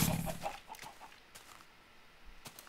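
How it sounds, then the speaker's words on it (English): A chicken in Minecraft clucks in a few short, soft bursts, with faint game sounds and no voices. "Oh, that poor chicken."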